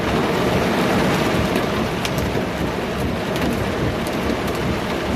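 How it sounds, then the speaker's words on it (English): Heavy rain and hail pound down steadily during a storm on a delivery drive, a loud, dense wash of drumming with sharp impacts scattered throughout, no voices. "it's literally hailing"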